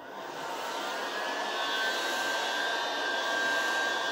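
A heat gun blows hot air steadily onto a MacBook Pro Touch Bar to soften its adhesive, a constant close whooshing roar with a faint high whine and no breaks.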